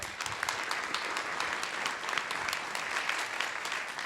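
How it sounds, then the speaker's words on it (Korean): Steady, dense applause from a forum audience fills the whole stretch, many hands clapping at an even level. "따뜻한 박수 부탁드리겠습니다"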